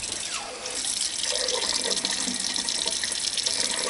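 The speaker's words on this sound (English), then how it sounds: "I like to have my water running a little bit." A kitchen sink tap runs steadily while shrimp are cleaned, giving a close, constant splash of water into the basin with slight shifts in tone as the stream is disturbed.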